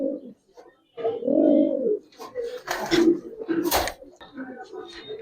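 Giribaz pigeons cooing at a bird market, low throaty coos repeating close by, with people talking over and between the calls.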